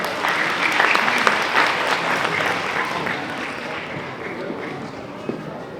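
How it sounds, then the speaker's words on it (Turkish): Loud, dense audience applause at an award ceremony for a Quran academy, sustained at full strength and then slowly thinning out toward the end. "alkışlarınızla sahneye davet ediyoruz efendim"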